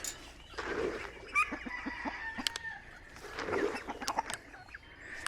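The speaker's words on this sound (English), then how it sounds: "They still sound like baby ducks." Soft peeping and chirping from baby ducks, with scattered clucks and clicks from nearby chickens, irregular and fairly faint over a low background.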